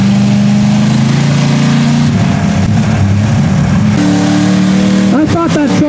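A big-block mud bog truck engine revs hard while digging through a deep mud bounty hole, a loud sustained roar with shifting pitch and surges, with people talking over it throughout.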